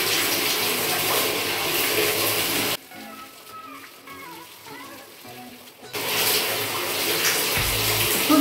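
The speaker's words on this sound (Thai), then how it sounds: "อาจจะได้ยินเสียงน้ำนะคะก็ขอโทษที" Water runs steadily from a tap while someone washes their face; the flow stops briefly midway, leaving quieter splashing and handling sounds, then gushes loudly again.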